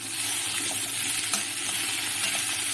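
Potato and okra pieces sizzle steadily in a hot pan, a continuous crackling fry with faint stirring scrapes, close and moderately quiet with no talking.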